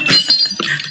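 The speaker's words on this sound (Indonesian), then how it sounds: "Mulai pecah piring." Dishes or plates clatter and break in a short, loud burst of clinks and cracks. The burst lasts under a second, with a sharp impact at the start and ringing fragments after it.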